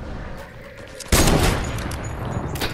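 A sudden loud burst of video game gunfire erupts after a quiet stretch and continues as heavy shooting, with faint talk nearby.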